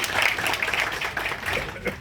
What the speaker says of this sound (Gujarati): જોરદાર તાળીઓથી એમને આકારવું